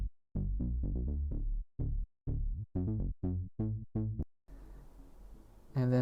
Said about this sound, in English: And then I layered it with a deeper bass that plays right underneath it.